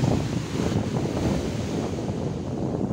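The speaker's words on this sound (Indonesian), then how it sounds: "anginnya cukup kencang, ombaknya cukup besar" Large waves breaking on a beach at Pantai Damas, Karanggandu, Watulimo, Trenggalek, at high tide under overcast skies, with strong wind buffeting the microphone; a loud, continuous roar of surf and wind fills the scene with no talking.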